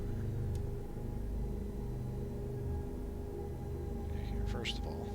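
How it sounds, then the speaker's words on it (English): Spaceship systems in the game Star Citizen power up with a steady low rumble and layered electrical hum, noisy and constant, while a voice talks over it. "Systems activating. Systems on. She's a little noisy on boot up."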